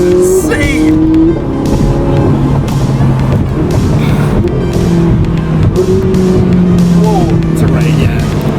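A white Ferrari driving hard, engine revving and shifting with repeated rising and falling tones while its tires grip and squeal, loud and close under excited talk from people in the car.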